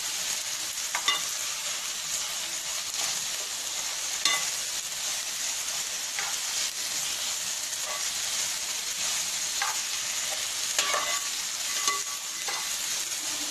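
A masala with green chilli and turmeric fries in a pan with a constant bright sizzle and hiss. Regular clicks and scrapes from a spoon stirring it run through the sound at close range, with no speech.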